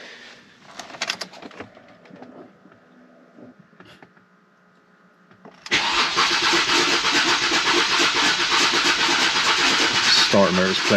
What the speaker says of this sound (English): Starter motor's playing up, I think it's on its way out